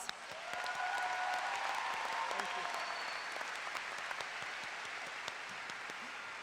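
Sustained applause from a commencement audience honoring student officers fills a large hall, a broad, even roar of many hands that holds for several seconds and fades slightly, with faint voices underneath.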